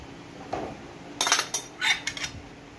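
A spoon clinks and scrapes in a dish while seasoning is stirred into vegetables for a casserole, a few short bursts of metallic clatter close by.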